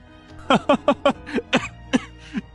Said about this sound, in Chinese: 酒卡在嗓子里，整个人剧烈的咳嗽起来